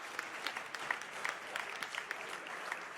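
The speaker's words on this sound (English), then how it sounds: "let's have a round of applause for her" Faint, thin applause from a small audience at an onstage conversation, honoring English teacher Keishia Thorpe of International High School, Langley Park, Maryland, with scattered distinct claps over a soft, steady patter.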